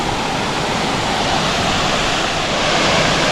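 A clear creek in Panthertown Valley flows steadily in a loud, close, continuous rushing wash with no voices over it.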